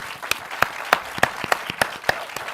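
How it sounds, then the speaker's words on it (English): Conference audience applauds panelists at an advertising event, the clapping dominated by one close, steady pair of hands striking about three times per second over a soft wash of wider applause. "Round of applause for the panelists."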